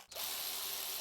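A power tool snugs down valve cover bolts on a Scion xB engine, giving a steady, close, whirring drill-like buzz that begins abruptly and runs continuously.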